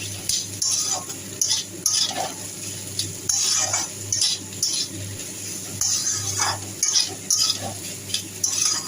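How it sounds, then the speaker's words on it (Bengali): A spoon stirs salt and sugar into a bitter gourd and pumpkin dish with onion in a pan, giving repeated close scraping and clinking strokes in an uneven rhythm over a faint sizzle, with no talk. "এরপর অল্প নুন হাফ কাপ চিনি ভালো করে মিক্স করে নেব"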